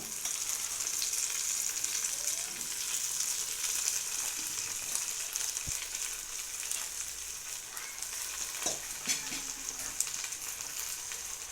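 Steady, loud sizzle of sorrel leaves (chukka kura) dropped into frying onions for an Andhra curry, a continuous bright crackle with a few faint stirring knocks, no talking.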